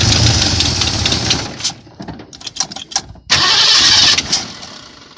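A 1977 Ford Mustang engine cranks with uneven, sputtering bursts, stumbles through a pause, then catches and roars loudly, heard up close.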